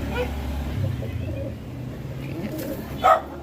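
A pigeon coos softly in a loft of raffle birds, with a brief louder call near the end over a low background hum.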